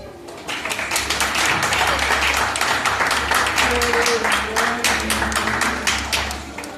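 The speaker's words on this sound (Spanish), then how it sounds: "Un fuerte aplauso." An audience at a care home in Narón applauds a children's play, a lively burst of many hands clapping for several seconds alongside a low hum, with a voice briefly calling out amid the clapping.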